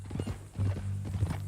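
Horse hooves walking in Red Dead Redemption 2, a slow clip-clop of steps close by, partly under a low rumbling drone and brief talk.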